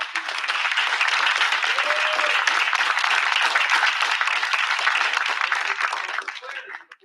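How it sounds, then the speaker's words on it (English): A seated audience applauds to thank a student invention team, full steady clapping that holds evenly, then fades quickly in the last second. "They get paid by your applause."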